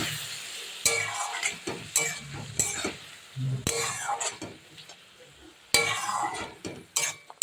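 A spatula scrapes and stirs a sizzling green tomato curry with poppy seed paste and a little sweetener in a pan. Close, irregular scraping strokes sound over a steady frying hiss, with faint clinks between strokes.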